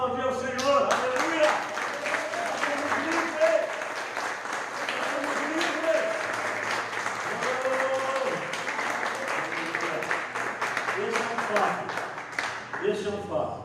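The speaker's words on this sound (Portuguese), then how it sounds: "vamos aplaudir ao Senhor" A church congregation claps for the Lord at an evangelical service, steady dense applause running the full length, mixed with musical tones and voices shouting praise over it.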